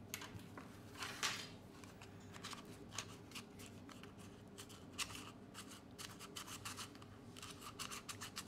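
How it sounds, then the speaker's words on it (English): A plastic card scraping and rubbing along a Motorola Moto Z phone to loosen the battery's glue adhesive, giving faint, close, irregular rasping strokes that continue steadily with a few sharper scrapes. "Use the plastic card to loosen the glue adhesive."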